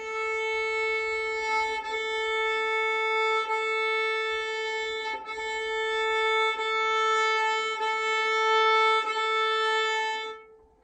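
A single long, steady violin bow stroke moving toward the frog, holding one sustained note for about ten seconds, rich and close, with faint scratchy texture before fading out.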